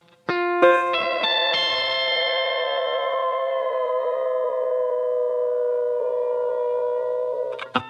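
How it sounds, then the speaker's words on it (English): A Stratocaster electric guitar with distortion, chorus and echo effects holds a sustained chord while the whammy bar dips it into slow, wavering pitch dives, loud and close, ending with a quick pluck. "What's more apparent is the pitch dives that we're going to employ later in the song"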